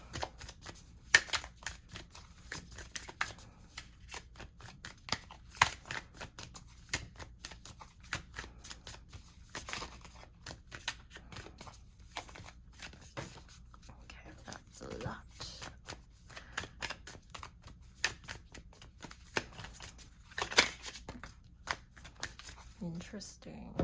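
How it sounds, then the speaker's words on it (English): Oracle cards riffled and shuffled by hand in a quiet room before one is drawn, a steady run of soft papery flicks and slaps that carries on throughout. "So I'm gonna pull an oracle card for you for group 2."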